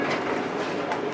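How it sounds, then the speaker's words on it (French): A metro train pulls out of a station, a dense, continuous rumbling wash of rail and motor noise that stays close and steady for just over a second. "le métro vient de sortir"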